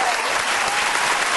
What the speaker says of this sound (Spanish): El aplauso para ella, por favor.